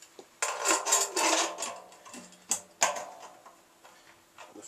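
A metal lid is handled and set onto a stainless steel corny keg for homebrewed beer, a few close bright clanks and rattles in separate bursts, with no talking.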